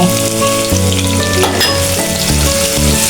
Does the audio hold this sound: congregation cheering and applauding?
no